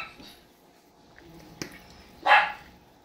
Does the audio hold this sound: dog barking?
yes